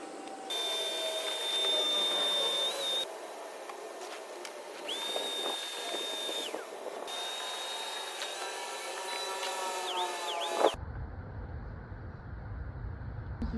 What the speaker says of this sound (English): So now I'm gonna start vacuuming